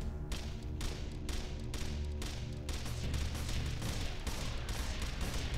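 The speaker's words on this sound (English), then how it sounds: "as they fire, they start to shoot faster like a Gatling gun" A video game weapon that speeds up like a Gatling gun fires a dense, continuous stream of rapid shots, loud and near, with the bursts growing faster and blurring together toward the end.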